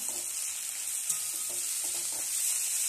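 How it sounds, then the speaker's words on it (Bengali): Five-spice seeds, cinnamon, two cardamom pods and two cloves sizzle in hot oil with a constant bright crackle, close up, with faint stirring knocks underneath. "তেলে 5 ফোড়ন দিয়ে দিলাম, একটু দারুচিনি, 2 এলাচ, 2 লং"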